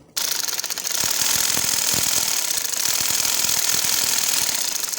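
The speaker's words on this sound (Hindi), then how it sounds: "तो अब हम इस पे लगाते हैं सिलाई।" A sewing machine stitches dori piping onto khadi fabric, running steadily and loudly for nearly the whole stretch with a rapid, clattering mechanical rhythm after a brief quiet start.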